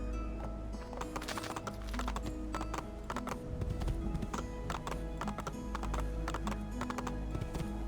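Horse hooves in Assassin's Creed 2, a quick, steady clip-clop of galloping at moderate loudness over a low background hum, with no talk.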